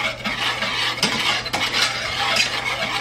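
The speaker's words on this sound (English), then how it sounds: "we are going to whisk this together" A whisk stirs cocoa powder, salt and sugar together in a bowl, giving a close, continuous scratchy rustle with quick rhythmic strokes and no voices.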